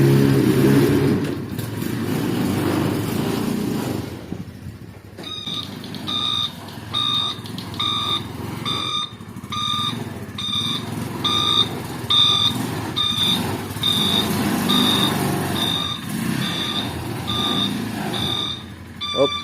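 A new Viar three-wheeled motorcycle (2025) reverses and parks onto a house terrace, its engine rumbling under a repeating, evenly spaced reversing beeper that starts partway through and keeps going.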